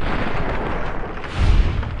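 Gunfire in the Fallout: New Vegas video game, a heavy boomy blast that swells and rumbles, loud and close, with no voices.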